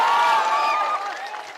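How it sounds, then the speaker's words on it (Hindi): Brief burst of clapping and cheering from a large outdoor political rally crowd in Rajgir, Nalanda, loud at first and tapering off within about a second and a half. "ताली बजाने से जान ना बचेगा"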